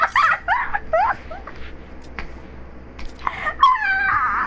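A dog yipping and whimpering in quick high-pitched bursts, then a pause and more whines and yelps, close by with light background noise.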